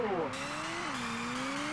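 Race car launching off the line in Ridge Racer, engine pitch sweeping up through a gear change and climbing again, a steady loud roar with tire squeal under the whine.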